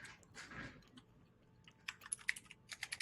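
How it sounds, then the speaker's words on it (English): Typing on a computer keyboard: soft scattered key clicks at first, then a quicker run of crisp, close taps toward the end, with faint chewing-like noises between. "Stop typing, Eliot."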